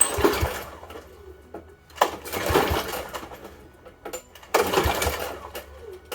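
A seized lawnmower engine, choke on, is pull-started three times: each yank brings a short rasping churn as it turns over, then fades without catching.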